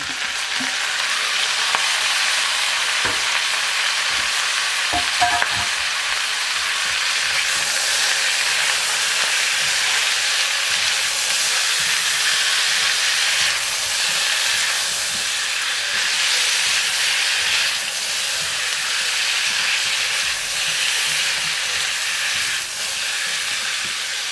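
Broccoli stems and large leafy spring onions stir-fry in a hot pan with a loud, continuous sizzle and hiss, broken now and then by light clatters of stirring.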